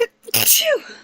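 A single sharp sneeze bursts out close and loud, followed by a breathy exhale, with a person speaking briefly just before it.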